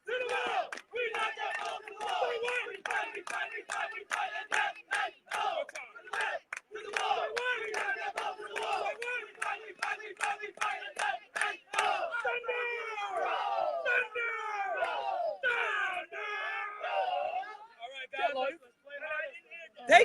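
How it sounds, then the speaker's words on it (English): Crowd at a youth baseball scrimmage yelling and chanting in rhythmic bursts, close and loud, a steady run of shouted calls giving way to looser, overlapping cheering near the end. "Listen to this cheer."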